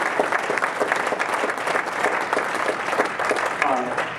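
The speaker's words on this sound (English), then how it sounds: "Give another round of applause for Jack." Audience at a community band event applauding in a steady, dense burst of clapping that lasts a few seconds at moderate volume.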